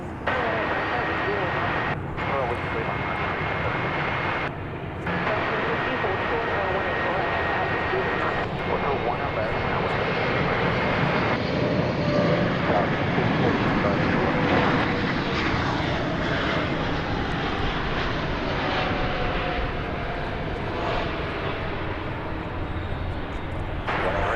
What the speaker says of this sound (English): the arrival of the Emirates 777 from Dubai